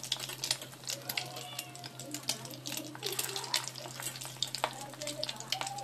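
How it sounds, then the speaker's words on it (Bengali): Rui fish roe fries four or five pieces at a time in a pan, giving a steady, busy crackling sizzle over a low constant hum. "এইভাবে সবগুলো ডিম আমি ভেজে নেব"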